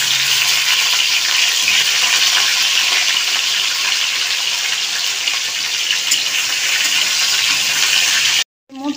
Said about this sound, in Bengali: এবার এর মধ্যে পটলগুলো ভালোভাবে ভেজে নিলাম